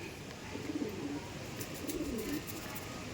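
Feathered-foot pigeons coo softly in repeated low, throaty phrases against a steady background hum.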